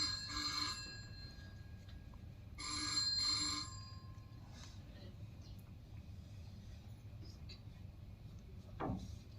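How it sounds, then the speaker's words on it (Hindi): A telephone rings in a room during a Hindi stage play, with two bursts of bright repeated bell tones over a low hum of room noise. "अगर हम लोग इस कमरे में इस वक्त नहीं भी होते फिर भी तो फोन ऐसे ही बजता रहता।"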